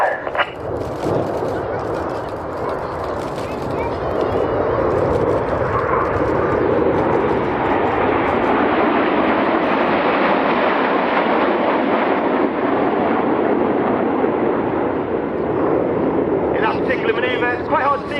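Red Arrows display jets at an airshow make a long, loud, steady roar overhead, building and holding for well over ten seconds with a broad rushing rumble, as the aircraft fly with air brakes extended.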